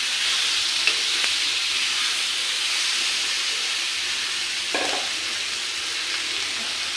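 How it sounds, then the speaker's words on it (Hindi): Vegetable curry reheating on a hot tawa griddle gives off a steady hiss and sizzle, with faint stirring clicks and a brief scrape near the end. "सब्जी गर्म करके लेंगे। बर्तन गंदे ठंडे में ना हो तो तवे से ही कर दिया"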